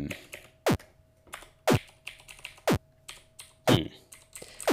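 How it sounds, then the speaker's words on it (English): Sharp, loud keyboard key presses while a computer game is played, about five distinct clacks spaced roughly a second apart, with quieter clicks and a faint steady electronic tone in between. "Just trying all keys here"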